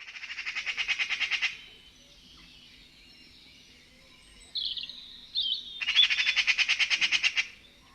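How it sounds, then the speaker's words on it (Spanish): A small bird's call, presented as one of the most intelligent birds, sounds in two loud, rapid trilling bursts at the start and end, with a few brief chirps in between and no talk. "Así suena este pajarito."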